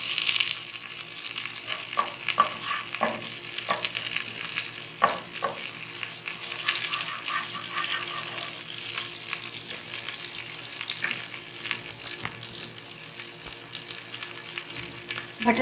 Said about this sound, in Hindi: ये बटर को मेल्ट कर लेना है